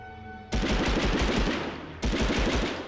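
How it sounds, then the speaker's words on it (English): Automatic gunfire in the video game Medal of Honor, two loud sustained bursts of rapid rattling shots, close and dominant, with a short break between them. "Oh, this gun's so inaccurate."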